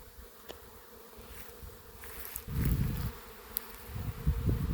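Honey bees buzzing around a hive in late August, a steady hum of many insects with louder passes as bees fly close to the microphone.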